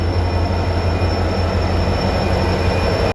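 Freight train rolling past a railway station in Gujarat, a loud, continuous rumble of wagons and wheels on rail with steady humming tones, close by and unbroken for the whole stretch before cutting off abruptly.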